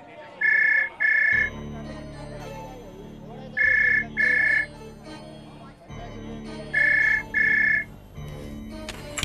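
A telephone rings in three spaced pairs of bright electronic trills, loud and steady, over a background of low hum and faint indoor sounds.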